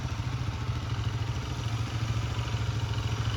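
A Honda ATV fitted with skis runs its engine in super-low first gear in the snow, its tires spinning. A steady low drone holds close and continuous without pause, and nobody speaks.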